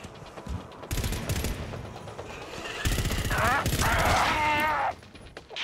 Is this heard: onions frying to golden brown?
no